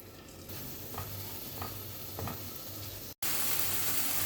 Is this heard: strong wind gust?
no